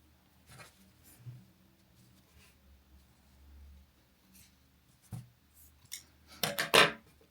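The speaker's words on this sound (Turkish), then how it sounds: "İpi gizledim, dışarıda kalan ipi kesiyorum." Scissors snip crochet yarn after the end is hidden in a daisy motif; a few quiet handling rustles lead to a cluster of sharp, close cuts near the end, with no talk.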